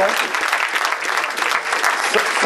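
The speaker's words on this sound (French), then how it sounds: "On peut applaudir déjà les membres du jury et le Président" Loud, dense applause from an audience at the 2011 Meilleur Ouvrier de France sommelier competition results ceremony, applauding the jury and president, steady clapping throughout with no pauses.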